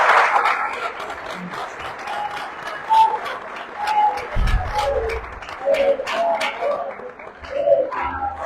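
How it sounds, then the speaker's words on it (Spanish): Applause from a conference audience on constitutional reforms, a dense patter of clapping hands that runs steadily throughout at moderate loudness, with a few voices and crowd murmur mixed in. "les pedimos un fuerte aplauso nuevamente"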